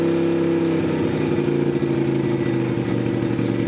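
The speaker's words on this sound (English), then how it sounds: "It's revving up, and then it goes back to idle." A Yamaha Virago 250 (XV250) motorcycle engine close by, revving up and easing back to a rough idle, loud and steady throughout.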